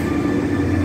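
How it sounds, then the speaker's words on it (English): A freight train passes Lincoln Station in England, giving a loud, steady low rumble and rolling wagon noise close by, with no talk. "I've just spotted this freight train"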